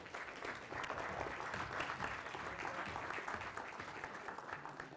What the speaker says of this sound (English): you want to applaud yourselves